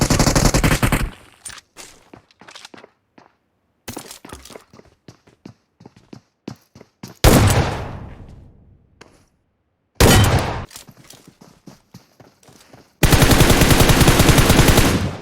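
Gunfire rings out in the mobile game PUBG Mobile, with loud automatic bursts and rapid single shots separated by brief silences, ending in a long sustained volley.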